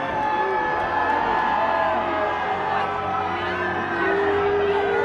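Boxing crowd at a fight night yelling, whooping and cheering before the bout starts, a dense, loud, sustained roar of many voices from close around.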